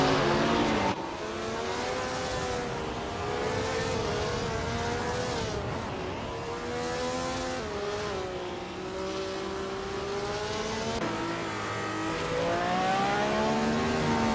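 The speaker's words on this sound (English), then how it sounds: "Hingle McCringleberry's car is a 1967 Lotus 49" A 1967 Lotus 49 Formula One car races at Lime Rock Park in a racing video game; its engine drones loudly and continuously, rising and falling in pitch through gear changes and corners, with no talk.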